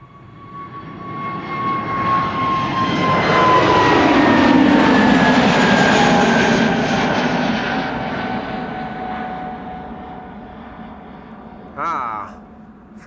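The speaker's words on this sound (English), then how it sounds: "This is EasyJet going to London Stansted, an A320neo." An EasyJet Airbus A320neo departs Schiphol for London Stansted, its jet roar swelling as it passes overhead with a falling engine whine, then fading away; a brief voice breaks in near the end.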